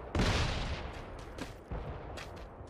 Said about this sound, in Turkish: Muhtemelen yukarıdan AK'li sıkanlar onlar